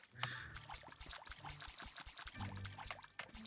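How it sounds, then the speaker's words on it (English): Water pours and trickles over crops as they are watered in the voxel farming game Staxel, a quick run of splashy, dribbling bursts heard up close and alone. "Make sure all these things get watered."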